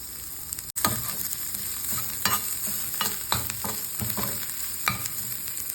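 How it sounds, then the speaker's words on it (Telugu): Ginger, cashews, curry leaves, cumin and onions frying in hot ghee, a steady close sizzle with spoon scrapes and stirring knocks against the pan at irregular intervals, no voices. "దాంట్లో నెయ్యి వేసుకొని దీని తర్వాత అల్లం చిన్నులపై తరిగింది, కొద్దిగా జీడిపప్పు, కరివేపాకు, కొద్దిగా జీలకర్ర, ఆనియన్స్ కూడా వేసుకొని బాగా ఫ్రై చేసుకోవాలి"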